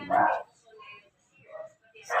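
A dog barks sharply a couple of times nearby, with quieter sounds and pauses between the barks.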